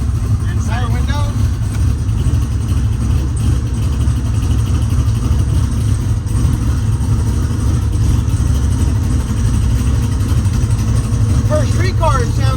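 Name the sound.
car engine idling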